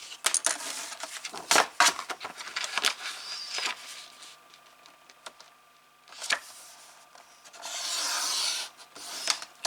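A blade slices through thick, heavy-weight paper for a Valentine star album, giving close scratchy rasping strokes in irregular bursts with small clicks and taps between them, and a longer dragging cut near the end.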